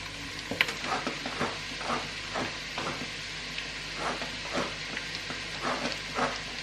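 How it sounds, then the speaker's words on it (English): Steady sizzling of onions frying in butter in a pan for butter chicken, with occasional stirring scrapes and soft clicks, close by and fairly quiet. "the onions are still frying at this point"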